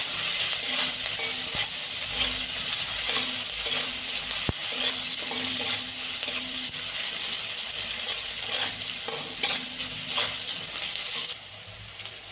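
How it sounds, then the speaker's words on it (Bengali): Onions sizzle steadily in a hot pan while being fried to a light reddish brown, with a broad continuous hiss and occasional scrapes of stirring; no one speaks. "পেঁয়াজটা একটু লাল লাল করে ভেজে নেবো আগে"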